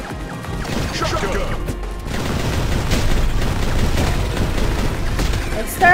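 Shotgun blasts and gunfire in the Mighty Goose video game, dense and loud bursts mixed with game effects and music, with a player's voice talking over the action.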